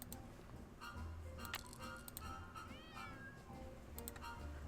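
Cat in the Nancy Drew Secret of the Old Clock video game meowing, with a few short, clear meows over soft, steady game ambience and no talking.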